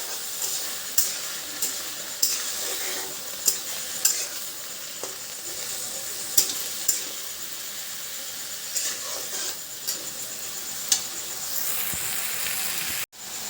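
Mustard greens, sorso saag, fry with a continuous sizzle in a pan in a village-style kitchen while a utensil stirs them in scattered scraping strokes, close and fairly loud.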